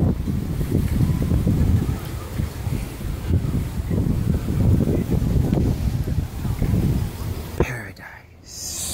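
Wind gusts through trees by a bay, a rough, rumbling roar with heavy buffeting against the microphone that rises and falls before dropping away near the end.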